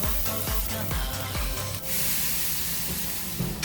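Steak searing in a pan with a pat of butter during outdoor survival-style cooking, a steady loud spray-like sizzle and hiss, with a few sharp spatters at the start.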